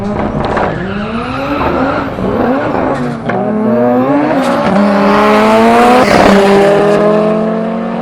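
A Honda-engined drag car with an 8-speed automatic launches at a four-cylinder street drag race, engine note climbing loud and close through rapid rising gear sweeps, with a brief tire screech.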